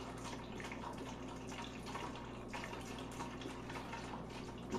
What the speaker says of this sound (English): Just go ahead and pour this in there.